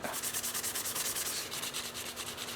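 Steady, rhythmic rasping of fine 800-grit sandpaper rubbed back and forth over a lighted display base, close up, with a faint constant hum underneath.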